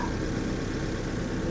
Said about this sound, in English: Car seems to idle well